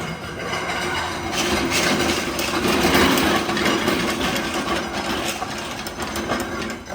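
A ride-on six-row rice seeder with double ball-bearing discs runs steadily nearby, its engine droning with a continuous mechanical rattle and clatter that holds even and loud throughout, with no talk over it.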